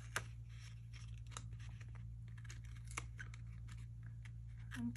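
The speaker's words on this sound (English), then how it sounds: "And cut out the excess like that." Quiet, close snips and crinkles of scissors cutting paper, irregular short cuts over a low steady hum.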